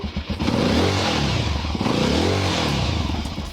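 A new motorcycle engine revs up and eases back twice in close succession, a loud, close rising and falling growl with no talking.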